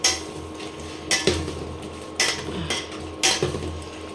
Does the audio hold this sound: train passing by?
no